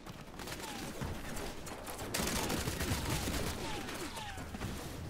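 Dense, continuous gunfire in the vampire battle-royale game Vampire: The Masquerade - Blood Hunt during a team deathmatch: rapid overlapping shots crackle steadily, growing louder partway through.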